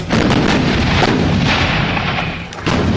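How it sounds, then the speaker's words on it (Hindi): An M777 howitzer firing with Excalibur rounds: continuous heavy booming and rumbling artillery fire, loud and close, sustained across the whole stretch with a brief dip near the end. "लंबे रेंजेस पर ये M777 जब आप फायर करेंगे एक्सकैलिबर के साथ"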